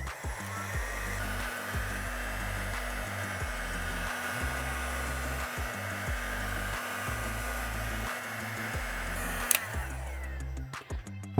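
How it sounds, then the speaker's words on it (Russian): A hair dryer roars steadily up close, drying Venetian stucco plaster to create cracks, its motor hum wavering in pitch, before it cuts off and a few light knocks follow. "Берем фен и продолжаем создавать трещины."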